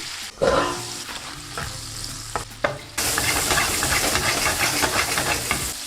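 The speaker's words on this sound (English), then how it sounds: "You want to cook and saute the asparagus." Asparagus sautés in a pan with a sharp, steady sizzle that jumps louder partway through, with occasional stirring clatter and no talking.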